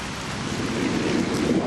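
Steady torrential rain roars in a dense, unbroken wash through a thunderstorm, with a low rumble swelling toward the end; no voices.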